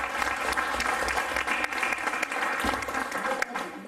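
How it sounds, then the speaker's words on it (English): Audience applause at a Ugadi 2010 community celebration, dense and steady for the whole stretch with a few louder claps poking through and some voices mixed in underneath. "I would ask everyone to clap for Avenir once please."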